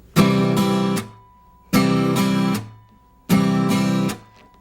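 An acoustic guitar plays three repeated chord figures, each a downstroke and an upstroke followed by a palm-muted stop, with short ringing gaps between them, close and clear.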